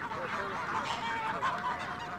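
A flock of geese on a farm honk together in a dense, overlapping chorus that stays steady and fairly loud, close by with no pauses.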